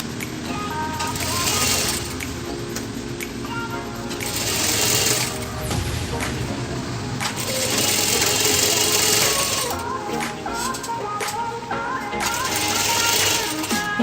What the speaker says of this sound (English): for neckline again you stitch at the edge of neck so that it will look finished.